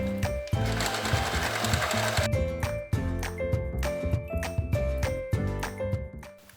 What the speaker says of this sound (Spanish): Podéis poner las dos telas juntas y coserlas a la vez.